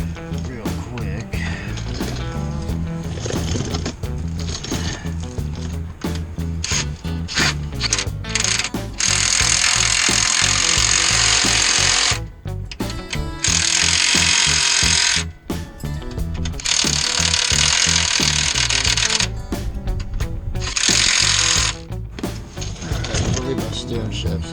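Hand tools clatter and ratchet while a car's steering shaft is fitted to the steering rack, with rapid metallic clicking and bursts of harsher grinding noise, close and loud, and a voice talking at times.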